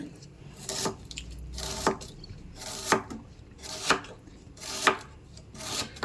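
Steady knife strokes slicing lengthwise through onion on a board, roughly one crisp cut per second, close and clear with no voices.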